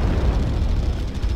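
Missile explosion in MechWarrior Online, a dense continuous rumbling blast with heavy low-end boom that fills the whole moment at steady loudness, no voices.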